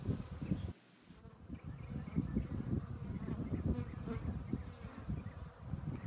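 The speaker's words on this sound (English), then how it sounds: "We'll leave these bees alone since they're working on honey" Honeybees hum and buzz busily at an open hive as they work nectar into honey, a dense close drone with a brief dip near the start.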